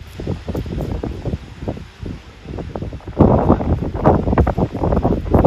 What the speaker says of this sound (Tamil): சரியான காத்தடிக்குது.